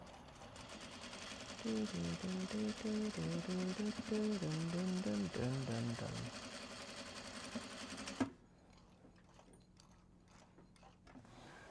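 A sewing machine stitches a seam on a Japanese fabric box bag in quick rhythmic bursts of whirring for several seconds, then stops with a clunk, leaving quiet handling noises.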